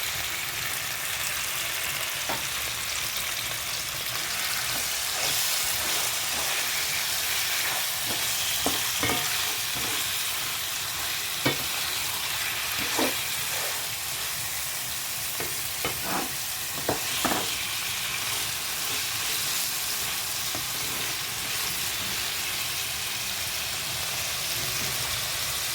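Meat sizzles and fries in a pan for ginataang labong, with a steady crackling hiss broken by scattered sharper spatters and scraping stirs, no talking.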